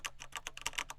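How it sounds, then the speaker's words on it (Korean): Rapid, close keystrokes on a Corsair mechanical keyboard with silent red switches, about eight soft clacks in a quick steady run. "여기 소리를 들려드리면 저도 그나마 무소음 적축으로 산 건데도"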